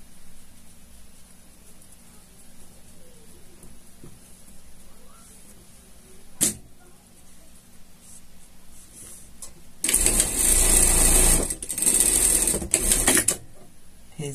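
A sewing machine runs a hem on a pet harness: a loud, close whirring burst of stitching lasting about three and a half seconds, stopping briefly once, after a long quiet stretch with a single knock.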